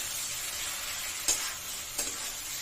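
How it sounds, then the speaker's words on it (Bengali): Spice paste frying and being stirred in a pan for a Bengali chital fish bone dish, a continuous close sizzle broken by two sharp utensil knocks. "এই এটা কষানো হচ্ছে মশলাটা"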